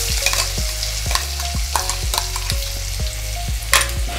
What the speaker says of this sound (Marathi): तर पेस्ट आपली व्यवस्थित फ्राय करून घ्यायचे।